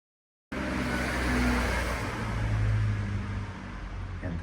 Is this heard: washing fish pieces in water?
no